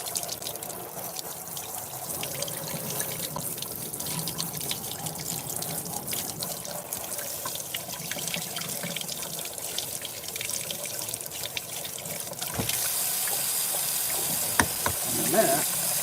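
Tap water runs steadily while a doll head is scrubbed and rinsed of soap under a faucet, a continuous moderate splashing with brief handling knocks near the end.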